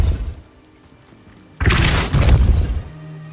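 A Depulso spell lands in Hogwarts Legacy with a heavy booming impact, a sudden loud blast that rolls on with crashing rumble and debris for over a second before settling into a low hum.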